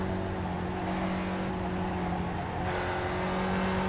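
A Spec Racer Ford in the iRacing sim at Lime Rock Park gives a steady, droning engine note with a faint tire hiss, continuous and fairly loud, with no talking.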